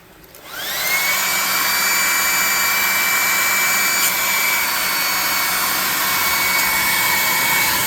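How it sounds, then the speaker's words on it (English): Hair dryer blowing over painted model alien stalagmites for a tabletop game, switching on about half a second in and then running loud and steady with a high whine for the rest of the clip. "And we're going to hit everything with the dryer again"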